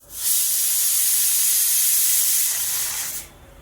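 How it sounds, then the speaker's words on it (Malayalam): A pressure cooker cooking tomato rasam lets out a loud, sustained steam whistle-hiss for about three seconds, then cuts off abruptly. "അപ്പോൾ നമ്മുടെ കുക്കർ വിസിലടിച്ചു കേട്ടോ"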